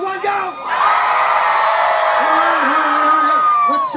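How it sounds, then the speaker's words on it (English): A large crowd at a country music event screams and cheers together in a sustained roar for several seconds, whoops and yells rising above the mass of voices. "I want the front to scream on 3, 2, 1, go!"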